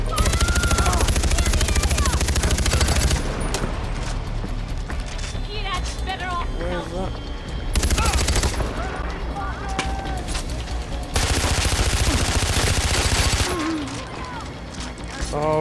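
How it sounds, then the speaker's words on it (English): Gunfire in the video game Far Cry 4, bursts and clattering shots mixed with game effects through the clip while a person talks over them. "Where are you shooting?"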